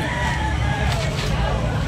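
Rooster crowing amid a busy Cebu chicken market, the call rising over constant crowd babble and clucking fowl, close and fairly loud throughout.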